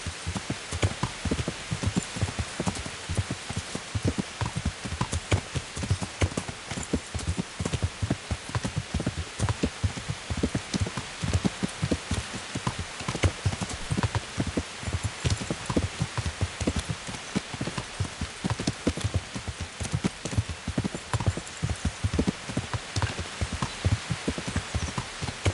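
In the video game Kingdom Come: Deliverance, a horse's hooves clip-clop steadily through pouring rain, the quick hoof beats mixed into a constant dense patter of rain on the surface.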